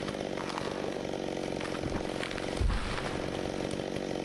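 A WM1000 sawmill with hydraulic adjustments slicing through a large log, a loud, continuous droning whine of the blade with a brief heavier surge partway through, close and alone.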